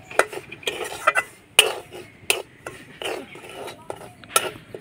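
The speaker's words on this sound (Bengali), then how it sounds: "সুজির কাঁচা গন্ধ চলে যাওয়া অবধি নাড়াচাড়া করে সুজিটাকে ভেজে নেব।" Semolina is stirred and fried in ghee in a pan, heard as sharp, irregular spoon scrapes and clinks against the metal with a faint sizzle beneath, close by, with no voices.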